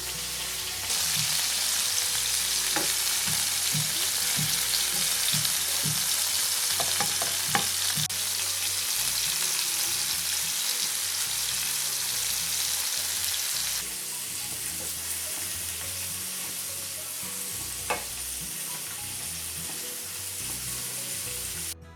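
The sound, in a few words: paneer tikka grilling on a pan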